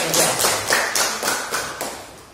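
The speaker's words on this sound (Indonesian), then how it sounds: "Kita beri tepuk tangan untuk kelompok" Scattered clapping from a classroom of students applauding a student group, several short bursts of claps at a steady beat, moderately close and fairly quiet, with no talking.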